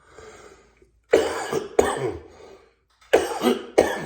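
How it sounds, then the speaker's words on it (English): Someone coughs hard several times in short bursts, with brief pauses between the harsh, close-up coughs. "Still got that cough."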